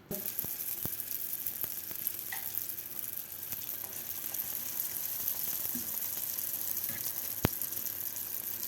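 Pişi dough frying in hot oil, a steady moderate sizzle running throughout, punctuated by a few sharp clicks and taps.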